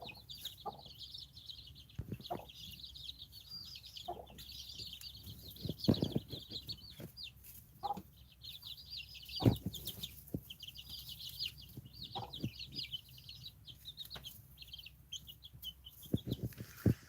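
Chickens in a coop settling down at bedtime, with soft, scattered clucks and short calls at close range, plus steady high chirping from birds throughout.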